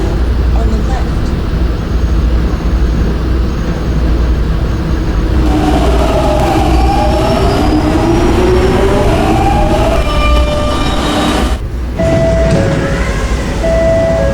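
An R68 subway train standing in a station, with a loud continuous rumble and hum, then motor whine and screeching as it moves, and a brief pause in noise near the end.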